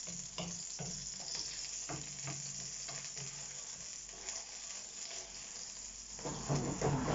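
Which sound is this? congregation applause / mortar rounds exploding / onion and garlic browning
onion and garlic browning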